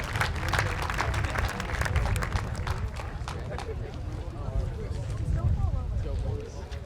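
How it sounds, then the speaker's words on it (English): Audience applause for class A5 at a school moving-on ceremony, a continuous patter of clapping with some voices mixed in and a bit of low rumble, thinning slightly toward the end. "One final applause for A5."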